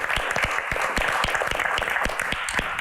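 Audience applause at a live Q&A music event, continuous clapping with distinct individual hand claps standing out near the front, steady and fairly loud with no talking.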